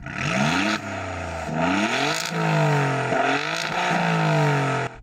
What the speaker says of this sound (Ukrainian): Мені подобається, що Альфа дозволяє крутити двигун до червоної зони.